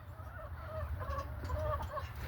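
Chickens clucking softly while walking through snow on a cold American farmyard, a steady murmur of low clucks and calls close by with no talk.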